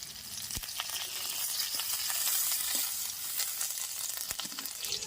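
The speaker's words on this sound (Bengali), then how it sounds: "তেলের মধ্যে দিয়ে দিচ্ছি পাঁচ ফোড়ন কেটে রাখা পেঁয়াজ এবারে দিয়ে দেব নিম পাতা" Sliced onion and neem leaves frying in hot oil with panch phoron for a bottle gourd dish; a steady, bright sizzle throughout, with a few sharp knocks of a spoon against the pan and no talking.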